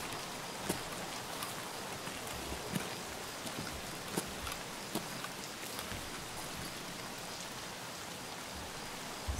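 Steady rain in the video game Escape from Tarkov hisses as a dense wash, with occasional sharper drop ticks standing out. It stays quiet and even throughout, with no talking.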